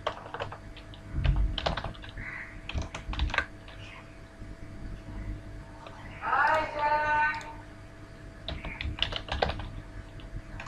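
Computer keyboard keys tapping while HTML code is typed: scattered clicks and short bursts of keystrokes, faint and close, with quiet pauses between them and a brief rustle in the middle.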